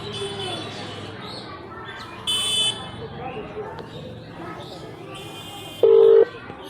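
A phone sounds its call-back tones: a couple of short, loud electronic beeps stand out over low background noise and chatter, with a final lower buzz-like tone near the end.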